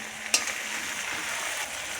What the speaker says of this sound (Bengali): তো এই যে ভালো করে কষিয়ে নিচ্ছি।